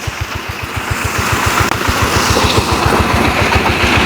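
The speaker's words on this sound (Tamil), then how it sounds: "அதுல தண்ணி பாய்ஞ்சு ஓடி கொண்டு இருக்கு பாருங்க" Irrigation water gushes loudly through a field channel on a green farm, a dense rushing roar. A fast, regular low thumping pulses underneath throughout, and no one speaks.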